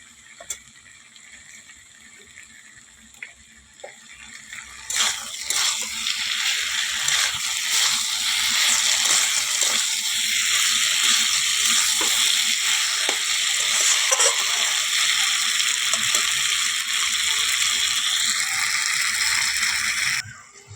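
Food cooks in a pan with only a low crackle at first. After a little water is poured in, a loud, steady sizzle rises suddenly and holds for the rest of the clip, with a few faint clinks of stirring.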